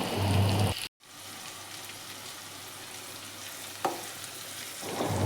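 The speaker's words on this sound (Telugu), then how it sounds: "మీడియం మంట మీద బాగా ఫ్రై చేయాలి" Okra pieces frying in a pan over a medium flame, a steady sizzling hiss broken by a brief silent gap and a soft clink, then the sizzle swelling again.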